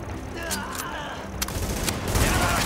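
Turret gunfire during a rooftop comm relay mission in the video game The Division, a few sharp shots standing out over steady battle noise and rumbling.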